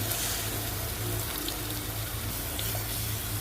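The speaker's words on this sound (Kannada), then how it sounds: "ಈಗ ಹುಂಚೆಯನ್ನು ನೀರು ಹಾಕ್ಕೊಂಬಿಡೋಣ್ರಿ" Water poured into a simmering masala of horse gram (hurali) sambar in a pan, making a steady, fairly loud gushing splash with no voices.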